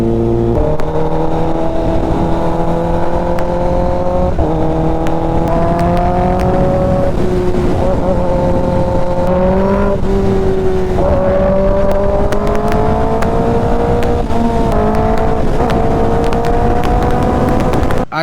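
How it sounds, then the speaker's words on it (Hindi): A large group of KTM Duke and Kawasaki Ninja motorcycles ride together on an Independence Day group ride. Their engines form a loud, continuous droning roar whose pitch drifts up and down as the riders shift and throttle. "इतना सारा बाइक एक साथ जाने का मजा ही अलग है"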